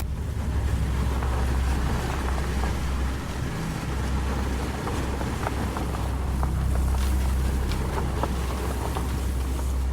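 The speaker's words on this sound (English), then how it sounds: "the truck drove straight through a massive puddle, sending a wall of water directly at his windshield" A truck plows through a massive puddle on the road, throwing a wall of water against a car's windshield; a loud, steady rushing roar of spray and water fills the whole stretch without letting up.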